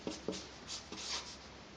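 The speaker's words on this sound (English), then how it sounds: "I will write it" A pen moves across paper as a word is written by hand, faint scratchy strokes with a few light taps and scrapes, close and quiet, with no voices.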